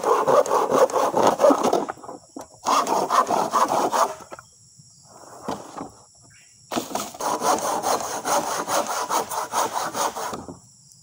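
A hand saw cuts through bamboo outdoors on a farm, with close, rhythmic rasping strokes in three long bursts separated by short pauses.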